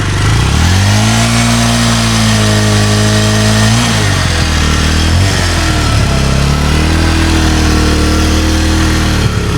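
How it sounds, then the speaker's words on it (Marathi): A 2015 Bajaj Avenger 220 motorcycle revs loudly and close up, with its engine note rising and falling in several steady throttle swells throughout. "गाडीचा दमदार आवाज आहे, भरपूर दमदार आवाज आहे."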